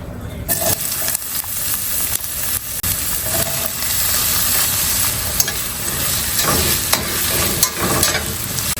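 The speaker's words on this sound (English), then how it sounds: "I've got some olive oil in the pan, and I'm gonna add some chopped onion." Chopped onion sizzles loudly in olive oil in a pan, a dense continuous frying hiss with occasional scrapes of stirring throughout, close up and with no talking.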